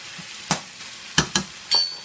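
Saltfish tossed into a hot pan, a few sharp crackling sizzle bursts and scraping stirs spaced irregularly, close and clear with no voices.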